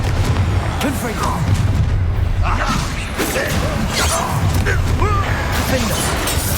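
Confringo blast spell cast during a spell-fight in Hogwarts Legacy, with repeated booming explosive hits and crashing impacts over steady combat din, while character voices shout and talk through the fight.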